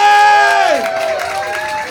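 Comedy show crowd in Tokyo cheering and shouting, with loud whoops and voices sliding down in pitch over scattered clapping that fades slightly toward the end.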